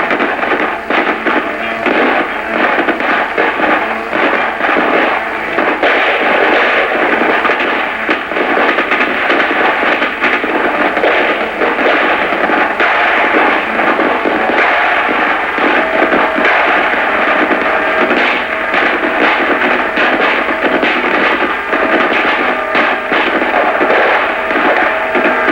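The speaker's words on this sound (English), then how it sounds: "Suddenly taken under enemy fire. The men take cover and immediately return the fire." Rifle squad gunfire exchange during a 1970s dismounted infantry combat exercise, heard as a loud, continuous crackle of rapid shots and bursts filling the whole stretch, with no talking.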